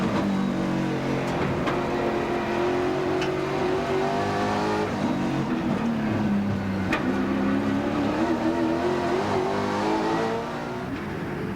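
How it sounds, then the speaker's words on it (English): Touring race cars at the 1994 Sandown 500 roar past in a close pack, engines revving and shifting pitch as they accelerate and pass, loud and continuous with no talk. "Larry Perkins with the Dick Johnson car"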